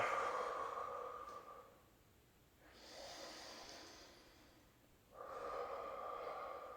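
Deep, slow breaths during a yoga forward-fold stretch: a long audible inhale, a pause, a steadier exhale, then another strong breath, close and unaccompanied by speech.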